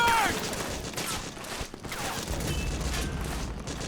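Gunfire crackles through a battle in Metal Gear Solid 4, a dense fusillade of shots and mechanical clatter under shouting voices and chaotic combat noise.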